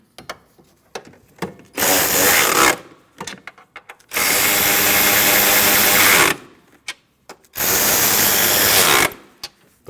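Power tool driving the strut mount nuts on a 2012-2016 Honda CR-V front strut assembly, three loud sustained bursts of whirring with short pauses between them, close up.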